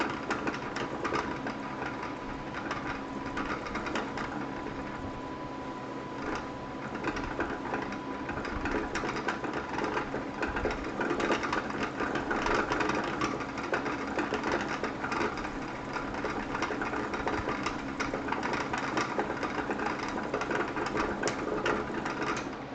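A home sewing machine winds a fresh bobbin in a quilting studio, a steady mechanical whir with a constant hum that runs unbroken for the whole stretch at moderate loudness, with no talk over it.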